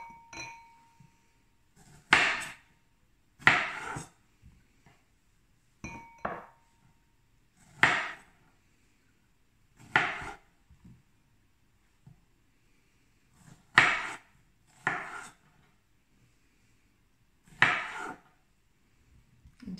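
A knife slicing strawberries into bite-sized pieces on a cutting board, with crisp, separate taps and clicks spaced a second or two apart, close and fairly quiet, with no talking.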